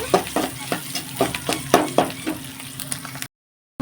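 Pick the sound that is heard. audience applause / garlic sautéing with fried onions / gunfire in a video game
garlic sautéing with fried onions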